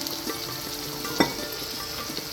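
Chicken sizzles steadily in a pan after water is added, a close, continuous frying hiss with one sharp clink partway through and no talk.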